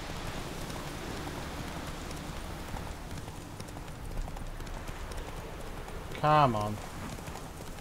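A galloping horse in the video game The Witcher III: Wild Hunt makes steady hoofbeats under a soft patter like rain, with someone briefly speaking near the end.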